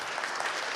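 A short burst of audience applause at a React Finland developer conference, a thin, dense patter of clapping without voices.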